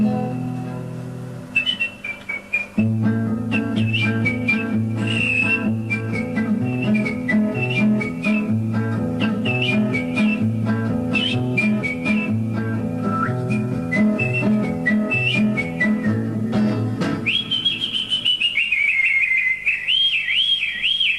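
A man whistles a bright, melodic tune borrowed from Walt Disney over a steady accompaniment, the notes phrased in quick runs and held tones, ending in a long wavering trill.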